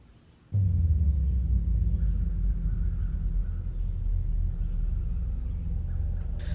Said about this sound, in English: here's some footage of the severe thunderstorm from yesterday